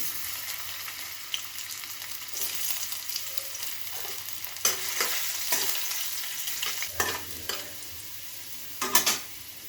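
Potatoes frying in hot oil in a home kitchen pan, a steady close sizzle punctuated by several sharp scraping stirs of a spatula, with no voices.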